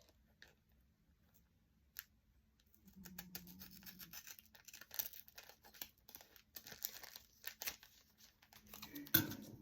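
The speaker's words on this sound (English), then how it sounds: "I'm trimming the plastic." Scissors snip and trim plastic packaging for a handmade journal window, with crinkling and scratchy rustles in short irregular bursts after a quiet start.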